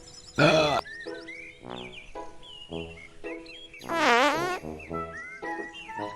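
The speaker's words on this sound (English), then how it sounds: "Is he farting at me? Why is he farting at me?" A cartoonish fart from a video game character in Dude Simulator, a loud, wobbling burst near the start and another longer rippling one midway, amid chirpy synthetic game tones and blips.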